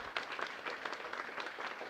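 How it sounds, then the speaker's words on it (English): Audience applause at a TEDx event following an opening performance, a dense, soft wash of many hands clapping at a distance, steady for the short stretch. "Give them a big round of applause."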